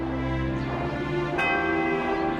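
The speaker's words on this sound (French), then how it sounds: "le premier tintement de la cloche géante retentit dans tout le pays" A giant church bell in a cartoon bell tower strikes once, its rich, layered tone ringing on and sustaining throughout with a brighter accent near the middle.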